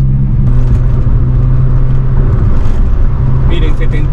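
A car with a six-speed manual gearbox cruising near 2000 rpm at around 55–75 km/h as it is shifted into fifth gear, a loud steady engine drone with someone talking over it.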